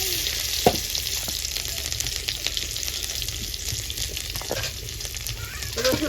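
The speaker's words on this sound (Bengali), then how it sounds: "রসুনটা হালকা ভাজা হবে একটু" Garlic fries in a little oil with a steady, bright sizzle close by, broken now and then by sharp crackles and the scrape of stirring.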